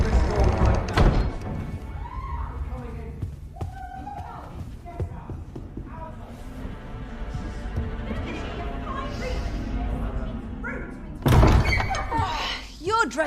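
Heavy pounding on a wooden door in the video game Dragon's Dogma 2, a few loud thuds near the start and again near the end, with voices and game ambience between them.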